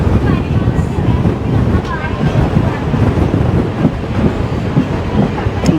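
Train running on the Kollam–Sengottai rail route, loud continuous rolling rumble with rhythmic clickety-clack of wheels and wind buffeting the microphone throughout.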